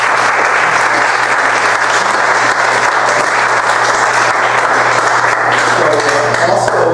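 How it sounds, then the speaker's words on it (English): Dense, steady clapping from a seated audience at a lake association's annual business meeting, honoring its volunteers; the close, even applause fills the whole stretch without letting up. "give them a big round of applause"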